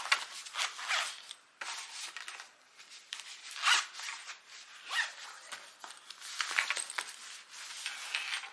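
Zippers on a travel bag pulled back and forth, giving repeated rasping, scratchy runs of varying length, close and fairly loud with no talking.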